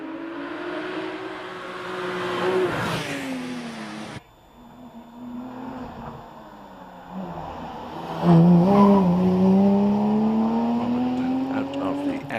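A hillclimb race car accelerates up the Prescott course, its engine rising in pitch through gear changes, fading and then surging back louder as it climbs toward the finish, with commentary over the sound.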